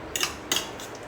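Spoon scraping and clinking in a bowl as banana yogurt is stirred together, two short metallic strokes close by, then quiet.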